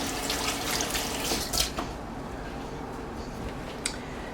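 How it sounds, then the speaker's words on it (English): A kitchen sink faucet runs while hands wash up between steps of assembling an enchilada bake, a steady splashing water stream with a few clinks and knocks. "And then I'm going to wash up."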